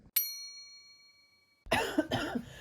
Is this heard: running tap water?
no